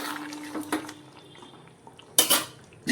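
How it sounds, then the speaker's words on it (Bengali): Vadi and fish being stirred in a cooking pan along with the fish oil, giving close metallic scrapes and clinks of a utensil against the pan, with a few sharper bursts of clatter and no talking. "বড়ি মাছ আর ওই যে মাছের তেল ছিল ওগুলো দিয়ে দিচ্ছি দিয়ে নেড়ে নিচ্ছি"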